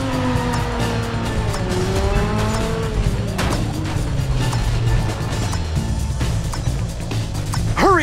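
A car races through the streets of San Francisco in the video game Driver San Francisco, its engine revving and shifting pitch continuously, with tire squeals and a sharp skid near the end.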